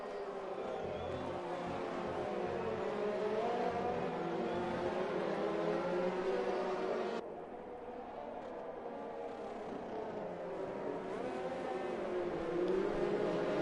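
Race cars circle the track in the F1 2020 video game during a league race in Austria and Hungary as the safety car comes in. A steady, dense engine drone holds throughout, dipping briefly about halfway before building again, with no talk.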